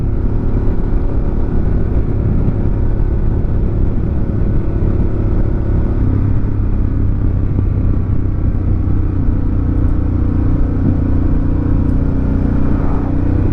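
Harley-Davidson Pan America Special motorcycle, liquid cooled, rumbles steadily while riding, with a dense low engine drone and wind roar holding loud and constant throughout, no voices.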